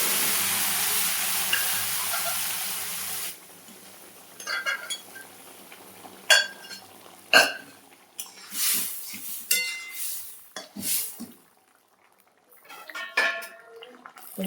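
Panch phoron spices tempered in hot oil for a shukto made with bottle gourd, coriander leaves and soya chunks, a steady sizzle giving way to intermittent clinks of utensil and pan as the mixture is stirred, with no talking.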